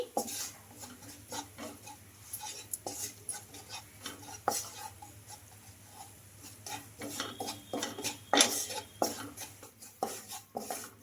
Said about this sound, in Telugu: ఈ ఆయిల్లో ఈ మసాలాను ఒక నిమిషం పాటు అయితే ఫ్రై చేసుకుందామండి